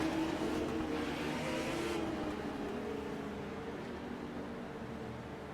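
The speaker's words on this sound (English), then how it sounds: "All the cars start rolling." Legends race cars rolling off at the start of a B main on a short track, a dull broadband engine drone that is loudest at first and then settles into a steadier, slightly fainter roar.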